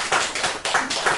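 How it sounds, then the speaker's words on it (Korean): Applause at a Korean Buddhist weekend dharma talk, heard as a short burst of close hand claps that pulses in several quick waves with no talk over it. "이거 정말 박수 쳐드려야 돼요"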